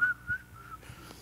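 A person whistles a short, faint, wavering tune that lasts only about a second and sounds fairly distant and soft.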